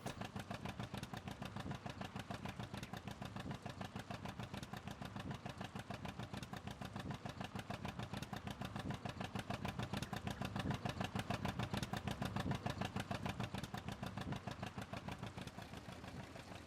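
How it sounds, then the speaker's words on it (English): A John Deere 630 tractor engine in Farming Simulator 19 putt-putts steadily for the whole stretch, a dense, even rhythmic chugging at close range with a slight swell in loudness midway and no talk over it. "the good old putt-putting sound here, the John Deere 630"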